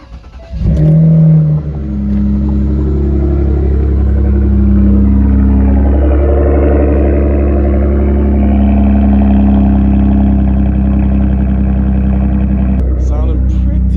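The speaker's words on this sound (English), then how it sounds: "do a little cold start real quick." A car with a 3-liter engine cold-starts with a loud catch and surge, then settles into a strong, sustained rumbling idle and revving that runs steadily close by for the rest of the clip.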